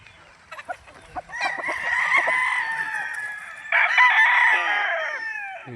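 Bull stag gamefowl roosters crowing on a farm in Tagaytay City, two loud close crows in succession after a few faint clucks and rustles.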